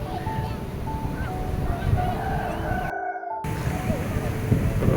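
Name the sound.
sea wind at Parangtritis beach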